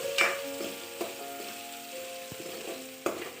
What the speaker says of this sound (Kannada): ಈರುಳ್ಳಿ ಸಣ್ಣದಾಗಿ ಕಟ್ ಮಾಡಿರುವಂಥ ಒಂದು ಈರುಳ್ಳಿಯನ್ನು ಫ್ರೈ ಮಾಡ್ಕೊಳ್ತಾ ಇದ್ದೀನಿ